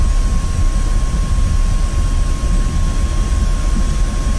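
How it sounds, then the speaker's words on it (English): Low ground rumble of an F-86F Sabre jet taxiing in the DCS flight simulator, a loud, steady roar with a thin constant whine above it and no voices. "you can already hear a bit of ground rumble"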